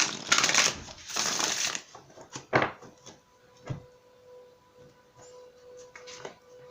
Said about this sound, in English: I'm going to shuffle this real quick.